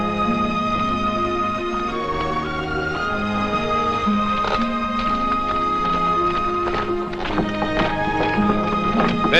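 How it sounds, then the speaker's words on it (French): Horses' hooves clip-clop in an ancient-era film scene as horses are loaded for a crossing, with a few hoof strikes coming through beneath loud, continuous orchestral music. "Faites aussi monter 2 chevaux, il y a de la place."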